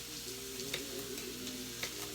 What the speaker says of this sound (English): Get the onions on the bottom and the tofu on the top so it doesn't burn and so the onions cook.